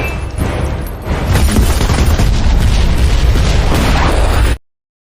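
A laboratory is blown up in a James Bond film scene, a loud, sustained roaring explosion with rumbling bursts and debris that swells after a second and cuts off abruptly near the end.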